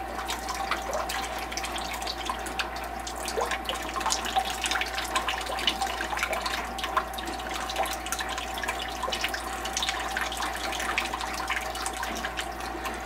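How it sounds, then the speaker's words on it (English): Water pours and splashes steadily as it is dumped out of a rock tumbler barrel during the polishing step, a continuous gurgling trickle over a low hum, with no talking. "now I'm going to dump the water out"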